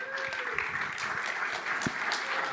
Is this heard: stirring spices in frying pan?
no